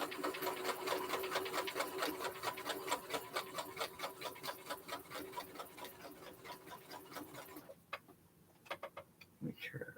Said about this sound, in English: Let me turn the stitching down a little bit.